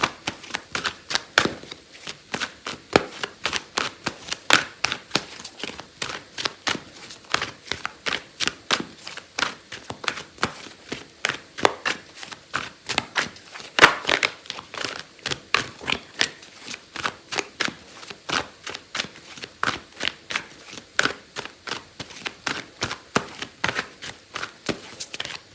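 A deck of tarot cards is shuffled steadily by hand, close and brisk, with rapid repeated riffling flicks running through the whole stretch without pause.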